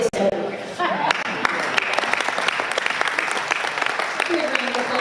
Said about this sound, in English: Give a round of applause for Tyler.